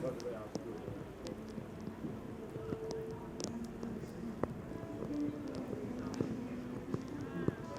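Rhythmic clip-clop of a horse's hooves trotting on a hard surface at a foal and young horse show, with someone talking over it throughout.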